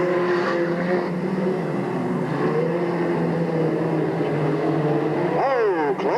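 Race cars on the final lap at Delta Speedway, a steady loud drone of several engines circling the oval, with one car's revs swooping up near the end, no clear talking.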